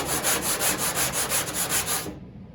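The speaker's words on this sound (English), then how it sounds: "using a small block and just trying to sand around the areas that the filler's in" A small hand block sands body filler on a car panel in quick, even back-and-forth strokes, a close rhythmic scratching that stops abruptly near the end.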